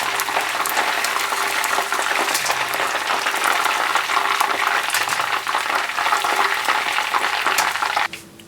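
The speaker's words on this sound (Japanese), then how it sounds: "揚げます。 フライパンに直接入れていきます。" Pieces of Korean yangnyeom chicken deep-fry in oil in a frying pan or wok, giving a loud, steady, dense sizzling crackle that runs the whole time and cuts off abruptly near the end.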